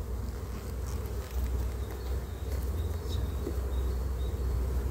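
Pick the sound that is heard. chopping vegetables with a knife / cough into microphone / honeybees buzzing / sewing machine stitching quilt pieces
honeybees buzzing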